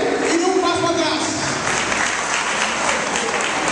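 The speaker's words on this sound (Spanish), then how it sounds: "Fuerte el aplauso para el miembro del Comité Central" A crowd applauds at a Dominican political party gathering, loud dense clapping filling the room steadily throughout, with a voice speaking over it early on.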